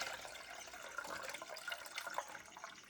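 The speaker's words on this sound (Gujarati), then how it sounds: "આ પક્ષીને પીવા માટેનું આ પાણી ભરવાનું છે આમાં" Water splashes and trickles as it is poured into a pot meant as a drinking bowl for birds, a soft, close, uneven gurgle lasting a few seconds.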